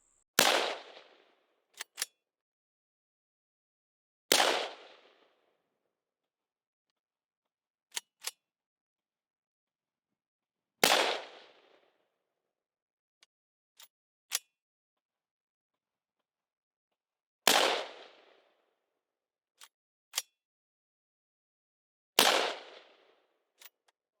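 Five loud, sharp gunshots from an Oceania Precision straight-pull .223 rifle, fired at a steady pace about six seconds apart, each with a short ringing tail, with quick metallic clicks from the action between shots.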